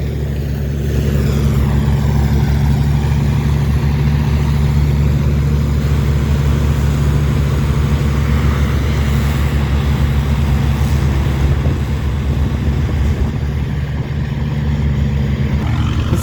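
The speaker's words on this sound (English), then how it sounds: "International 454, my father's tractor." A vintage International 454 tractor engine runs steadily, a loud, close, heavy low rumble that holds constant throughout with no talking.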